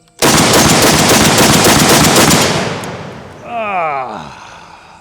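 A tactical firearm fires a fast automatic burst outdoors, a loud dense roar of shots lasting about two seconds that fades into ringing echo, after which a voice cries out under the dying reverberation.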